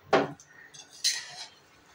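A spoon scrapes and stirs jaggery melting in a kadai over a low flame, making two short, close metallic scraping clinks against the pan with quiet pauses between and no voices.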